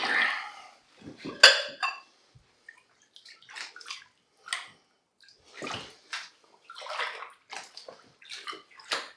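Water sloshing and splashing in a tub as heavy bowls are set on soaking unsanforized Ooe Yofukuten SOA03 denim jeans, several irregular bursts of splashing and dripping, close and moderately loud.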